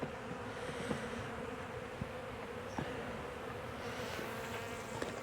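Honeybees swarming around an opened beehive during an early-March hive inspection, a steady, dense buzzing hum that continues throughout, with a few faint knocks and clicks from handling mixed in.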